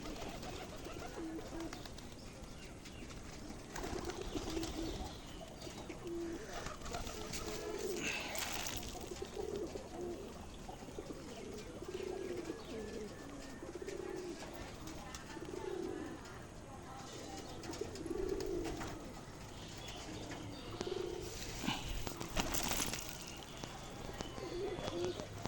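Pigeons coo in a repeating, muffled rhythm while they eat the food they were given, and faint rustling sits under the calls.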